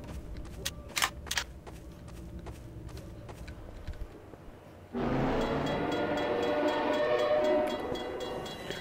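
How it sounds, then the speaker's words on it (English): A train in the Half-Life 2 video game rumbles in abruptly and loudly after a few seconds of sparse clanks and clicks, then continues as a dense, steady roar. "Trains jumping into the sewer."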